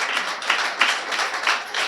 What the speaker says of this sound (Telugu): చప్పట్లు కొట్టిన ఒకసారి అంత.